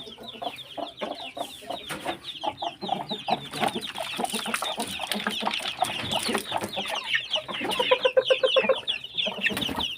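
Brahma hens clucking in a backyard flock, a busy overlapping chorus of close, repeated clucks and chicken calls that runs continuously without a pause.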